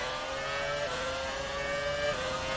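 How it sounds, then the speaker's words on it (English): A McLaren Formula 1 car from around 1999–2000 in the racing game F1 2019, its engine holding a steady high-pitched whine with slight pitch shifts, continuous and fairly close, with no talk. "that sounds like a McLaren"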